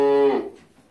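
A cow in a barn gives a single short moo, a loud, close, tonal call that fades out after about half a second.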